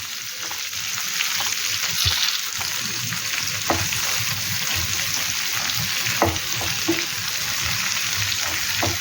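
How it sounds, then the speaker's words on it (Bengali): Okra (bhindi) frying in a pan: a loud, steady close-up sizzle with occasional light clicks and taps from stirring. "ভেন্ডিটাকে 3-4 মিনিট ভাজবো, তারপরে এটাতে মশলা মেশাবো।"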